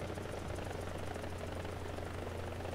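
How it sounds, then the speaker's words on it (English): An AH-1Z Viper helicopter in War Thunder drones with a steady, loud rotor and engine roar. The low, throbbing hum holds unbroken throughout. "God, I love helicopters."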